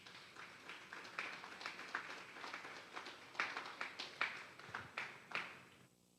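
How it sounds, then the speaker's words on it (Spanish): A church congregation applauds during a Sunday service, a faint, uneven patter of scattered claps rising and falling in small bursts, sounding distant and thin. "Denle un fuerte aplauso pues al Señor."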